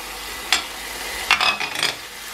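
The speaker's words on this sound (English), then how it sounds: "Just fry it a little bit." Crushed garlic fries in a pot with a quiet, steady sizzle, joined by a few short scraping stirs from a spoon.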